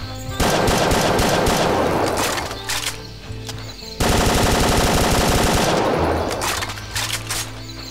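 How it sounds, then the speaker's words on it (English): Sustained automatic fire from an M16A1 rifle in a Doom mod game, two loud continuous bursts of rapid shots separated by a brief break around the middle, with no talking. "Oh, M16A A1. Well, that, that's basically my gun."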